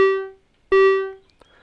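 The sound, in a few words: Korg Volca Modular synthesizer patch with envelope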